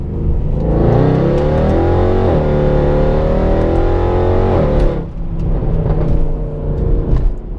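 A Mercedes C63 AMG engine revs hard and loud up through fierce gear shifts, each climb in pitch snapping down at the change, heard close and alone with a deep throaty roar.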